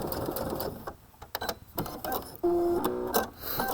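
A sewing machine fitted with a bi-level foot stitches along a fabric edge in short, close bursts of rapid mechanical whirring and ticking, with quiet handling noise between runs.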